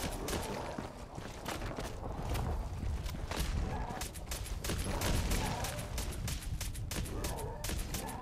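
Rapid gunfire in Fallout 4 at Cliff's Edge Hotel, a dense fusillade of sharp repeated shots and bursts that keeps going without letup, loud and up close.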